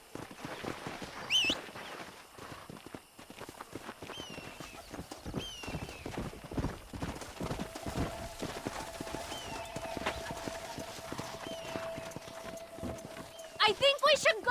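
Horse hooves of a stagecoach team in the video game Red Dead Redemption clip-clop steadily at a trot alongside creaking movement, with a brief whinny and scattered voices speaking over the rhythm.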